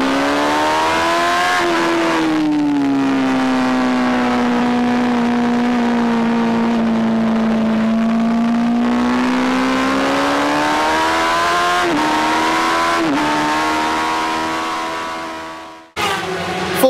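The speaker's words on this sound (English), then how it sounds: "Listen how loud that bike is for a standard bike." A 2017 Honda Fireblade with a full titanium exhaust system held at a loud, steady high rev with a raspy, crisp exhaust tone, dipping briefly before cutting off near the end.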